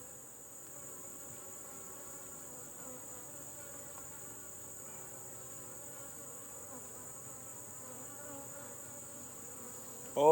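Honeybees buzz steadily around an open Layens hive during requeening, a soft continuous drone with a steady high whine, ending in a brief louder rustle.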